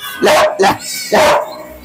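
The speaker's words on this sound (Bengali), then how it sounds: "ও কিন্তু অসাধারণ একটা গার্ডের জন্য, সম্পূর্ণ কাগজ সহ আছে, গার্ড ডগ হিসেবে ফিমেল" A ten-month-old female guard dog barks at the Katabon animal market in Bangladesh, three sharp, close barks in quick succession with short pauses between them.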